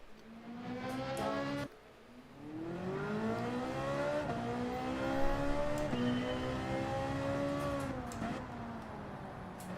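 A Ferrari racing car in Gran Turismo 7 on the Trial Mountain circuit, its engine revving loud and steady through rising gear sweeps, cut by a brief drop near the start, with no talking.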